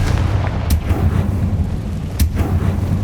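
Confringo fire-blast spell cast in the video game Hogwarts Legacy, inside the Feldcroft Catacomb dungeon: booming, rumbling blasts over a heavy low roar, with two sharp cracking bursts standing out.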